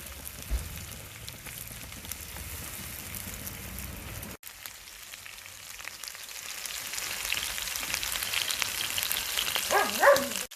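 Pepper chicken pieces shallow-fry in a pan with a steady, fairly quiet sizzle, briefly cut off near the middle and then returning a little stronger, with a soft clatter near the end.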